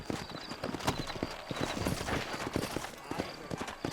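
Horse hooves clip-clop steadily and close by in Red Dead Redemption as a mount walks through a frontier town, the rapid irregular beats sounding over an ambient wash with faint background voices.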